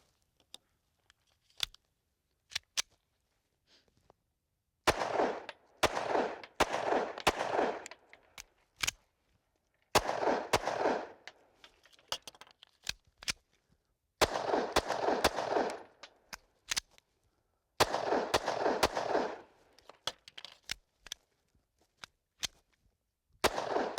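A Kahr handgun fired with Liberty Civil Defense ammunition outdoors, sharp loud shots fired in several quick bursts separated by pauses, with fainter single reports and clicks between strings, no talking.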